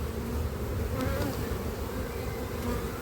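Honeybees fill the air with a dense, even buzz at an open beehive being inspected, a steady close swarm drone lasting the whole few seconds.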